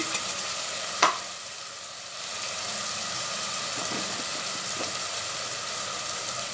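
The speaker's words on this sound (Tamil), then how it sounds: "தக்காளி நல்லா வதங்கிறதுக்கு ஒரு நாலு உப்பு நல்லா வதக்கிப்போம்" Tomatoes sauté with asafoetida and turmeric in a pan, giving a steady, close sizzle with one sharp clack of a utensil near the start and occasional soft stirring scrapes.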